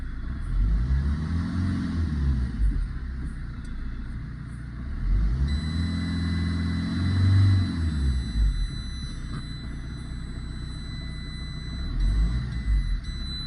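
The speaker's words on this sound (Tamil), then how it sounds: "இப்போ வண்டி ஸ்டார்ட் பண்ணுறேன்." Fiat Linea car engine started and running after an ECM signal repair, a steady mid-pitched hum close by with two swells of revving, no talk over it.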